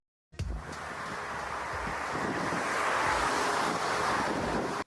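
Strong wind buffets during Emirates A380 landing footage, a dense rushing roar that starts abruptly after a moment of silence and then holds loud and steady, with no speech.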